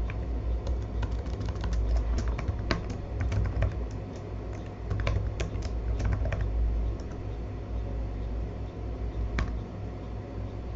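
Computer keyboard typing at close range, a steady run of quick key clicks over a low background hum, no talking.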